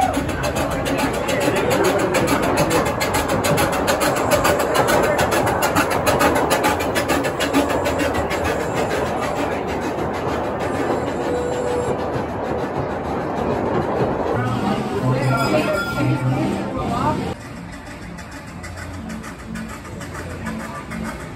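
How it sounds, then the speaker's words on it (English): An amusement park train ride at Knoebels rumbles and rattles steadily for about twenty seconds with a continuous, noisy clatter. The wheels and cars shift in tone midway, and voices chatter faintly underneath. "Finally gonna go ride the train."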